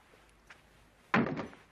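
Fold-down chairs in a cramped studio apartment snap into place with a single sharp wooden thunk. A fainter knock comes just before it in an otherwise quiet room.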